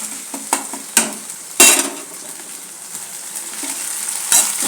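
Egg masala fried rice with ginger-garlic paste, onions, green chillies and coriander frying in a pan, a steady sizzle broken by several sharp scraping and clattering stirs from a spoon against the pan.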